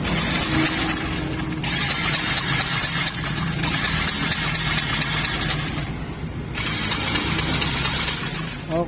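During troubleshooting, a motorcycle engine is started and runs with a rough, mid-pitched mechanical drone, dipping briefly twice before picking back up, close and fairly loud.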